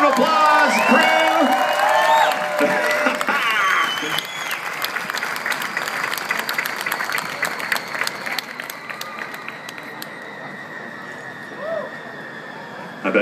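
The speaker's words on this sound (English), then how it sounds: "Let's give them a big round of applause, crew." A crowd applauds the Super Guppy crew outdoors, with loud, dense clapping and some cheering at first, thinning to scattered claps over a steady background hum.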